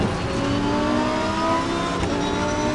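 Race car engine screaming at high revs in Assetto Corsa Competizione, tucked in the slipstream behind another car, a dense loud whine with slight pitch wavering and a faint tire squeal, no voices.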